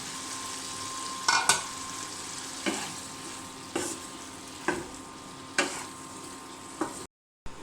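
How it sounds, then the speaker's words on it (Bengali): Bottle gourd sautéing in a pan for a fish curry, a continuous sizzle with about half a dozen sharp spatula scrapes and stirs at regular intervals, close and moderately loud. "তো এখানে লাউ কষানো হয়ে গিয়েছে"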